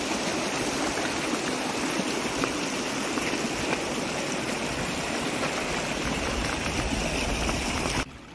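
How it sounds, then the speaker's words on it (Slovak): A fast glacial meltwater stream rushes steadily and loudly near a glacier below Kazbek, Georgia, a dense unbroken roar of churning water that drops away abruptly at the very end. "Dobrý potok ľadovcový."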